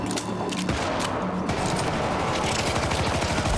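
Open firefight in the video game Syndicate, loud continuous gunfire and rapid shot rattle layered over a dense, busy mix of combat noise, steady and close throughout.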